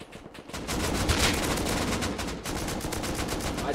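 Rapid video game shooter gunfire crackles in dense, continuous bursts for nearly four seconds, loud and close.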